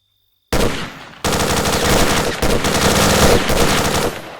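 Sustained automatic gunfire from a firefight in the shooter game S.T.A.L.K.E.R.: Shadow of Chernobyl, loud and close, rattling in dense rapid bursts with brief gaps after a short silent start.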